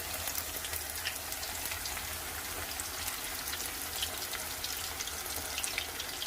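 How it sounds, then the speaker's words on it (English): Tacos fry in preheated oil, giving a steady, even crackling sizzle that stays at a moderate level throughout with no voices. "I'm going to fry them in preheated oil"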